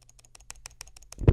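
A computer mouse button spam-clicked in quick, fairly even succession at close range, about a dozen crisp clicks, ending in a heavier thump.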